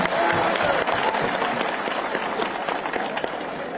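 Audience at a rally applauds steadily, a dense wash of many hands clapping that stays strong throughout and eases slightly toward the end, with no voices standing out.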